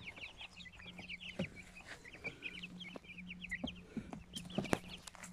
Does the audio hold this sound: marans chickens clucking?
yes